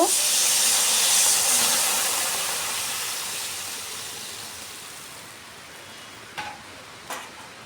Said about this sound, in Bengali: এবার ঝোলের জন্য পরিমাপ মতো জল দিয়ে দিব।